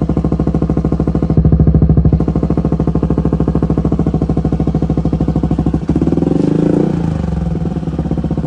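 A Yamaha Aerox version 1 scooter with a TRC exhaust pipe run without its silencer, idling with a loud, rapid, raw pulsing drone close by, then a brief blip of revving before it settles back to idle.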